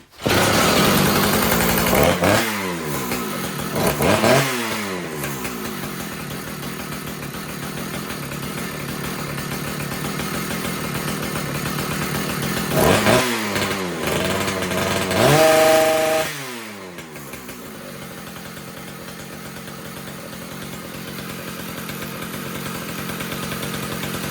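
A Husqvarna K760 cut-off saw's two-stroke engine runs loudly and steadily in an enclosed space, revving up twice with rising and falling pitch sweeps, then settling to a quieter, even idle.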